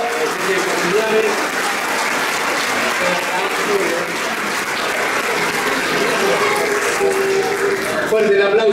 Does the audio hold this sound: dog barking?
no